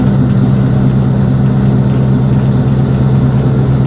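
A loud, steady engine drone heard from inside the cab of a 1963 Chevy 1-ton truck, coming through the firewall, a deep constant hum with no variation and no voices.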